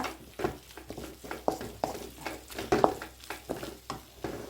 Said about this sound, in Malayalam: അപ്പോൾ നമുക്ക് മട്ടനും പറക്കി ഇട്ടിട്ട് വീണ്ടും നമുക്ക് ഒന്നും കൂടി വഴറ്റണം.